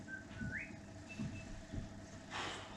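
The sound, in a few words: person whistling a tune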